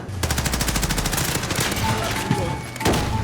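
An AS VAL rifle fires in Call of Duty: Modern Warfare multiplayer, a rapid automatic burst of suppressed shots in a steady rhythm, loud and close, with further gunfire and a heavy thump after.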